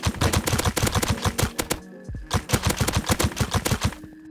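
Rapid, close bursts of snowball gun fire in the video game Rust. Two sustained volleys of sharp repeating shots with a brief gap between them.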